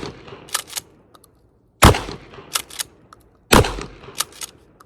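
A Mossberg 500A 12 gauge pump-action shotgun fires two loud, sharp blasts about two seconds apart, with quieter mechanical clicks and clatter from the action in between.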